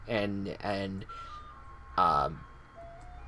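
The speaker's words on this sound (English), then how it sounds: "You guys heard the ice cream truck in the background, right?" An ice cream truck's jingle plays outside as it passes, a thin, steady tonal melody sounding faintly in the background beneath a nearby voice talking.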